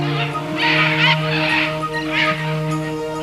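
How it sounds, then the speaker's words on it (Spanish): Loud overlapping bird calls in the Manu rainforest at dawn, harsh squawks from macaws and parrots rising in bursts over a steady hum of insects and birdsong, fairly close and continuous. "los pájaros saludan con un ruido ensordecedor la llegada del nuevo día"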